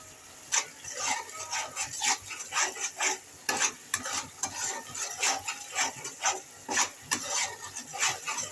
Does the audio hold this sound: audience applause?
no